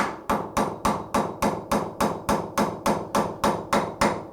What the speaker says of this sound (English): So let's go ahead and pound in our number 4.